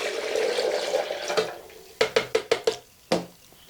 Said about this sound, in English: And then you want to add about 5 cups of water.